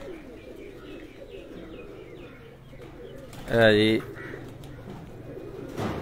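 Pigeons coo faintly at a pigeon keeper's home in Sargodha, with a brief, louder burst of calling in the middle over low background noise, while someone speaks briefly nearby.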